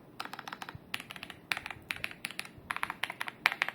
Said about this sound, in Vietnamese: Còn về tiếng của switch, đây là dạng switch silent, rất là êm